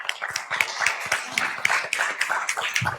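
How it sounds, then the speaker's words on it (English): Audience applause at a pitch competition awards event, a dense run of rapid overlapping handclaps from a modest crowd, steady and fairly close, with no talking over it. "keep the applause going, please, for all the teams"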